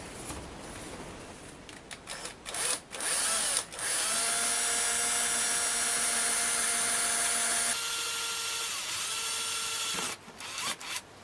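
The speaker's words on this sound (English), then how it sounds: "I think I'll try to drill the holes first." A power drill drilling holes in wood on a Les Paul copy guitar whines steadily and close up for several seconds, its pitch shifting as it bites in, preceded by scraping and handling noises.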